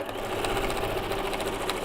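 A sewing machine stitches quilt fabric for a floating star quilt block, its needle chattering in a fast, steady mechanical rhythm up close.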